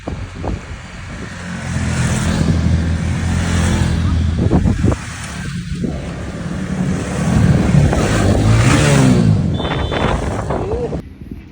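A Honda Winner X underbone motorcycle is ridden on the road, its engine droning with shifting pitch under heavy wind rush, while a rider speaks intermittently.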